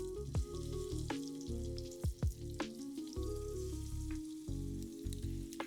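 Steady sizzling and crackling as chicken cooks in butter in a hot pan over medium heat, close by, with occasional pops and clinks of a utensil.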